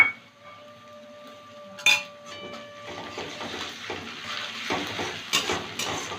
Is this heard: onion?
yes